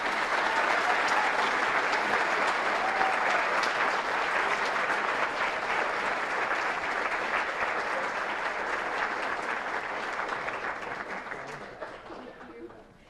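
A school awards assembly crowd gives sustained applause for an English excellence award winner, thick, even clapping that carries on for about ten seconds and then gradually tapers off, with faint voices beneath.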